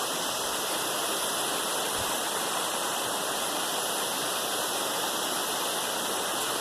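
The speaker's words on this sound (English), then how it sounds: "this is the waterfall right behind me" Constant roar of a waterfall, a dense, even rush of falling water that fills the whole scene without pause.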